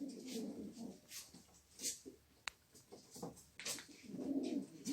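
Soft pigeon coos repeat in short bursts, fairly close, with faint background noise and a brief click in the middle.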